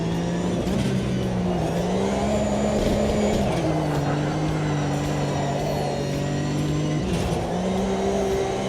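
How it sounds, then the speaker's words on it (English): A race car in Automobilista 2 drifts, its loud engine holding a steady drone that sags and rises again over several seconds, close and continuous with no talk. "Drifting."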